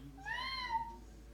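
A 19-month-old toddler imitating a cat with a single drawn-out meow, a clear rising and falling cry close by in a quiet room.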